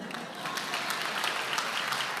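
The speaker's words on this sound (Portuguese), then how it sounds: "Continua aplaudindo." A church congregation applauds during a sermon, sustained dense clapping filling the hall for a couple of seconds.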